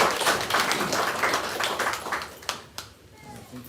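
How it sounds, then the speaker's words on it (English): Hand clapping from the members gathered at a district office handover ceremony in Maracha, a dense patter that fades out over a few seconds, ending with a couple of sharper isolated claps. "Members, can we have a loud hand clap?"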